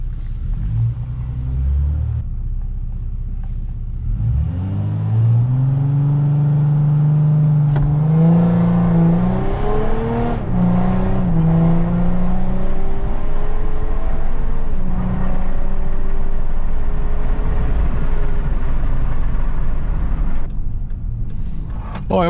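A Volkswagen Amarok V6 pickup with a Stage 2 tune accelerates hard from 0 to 100 km/h, its engine note rising in pitch through the gears in a loud, close, continuous rumble with brief shifts.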